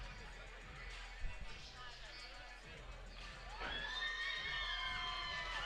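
A crowd at a Cage Wars MMA event cheers and shouts as a fighter makes his entrance, swelling toward the end beneath ongoing commentary speech.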